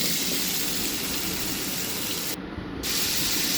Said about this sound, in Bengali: এখন আমি আলুগুলোকে ভেজে নিব